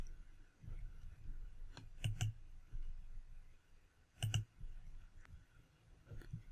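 Computer mouse clicks at a desk, a few faint, sharp double clicks spaced seconds apart over quiet room tone.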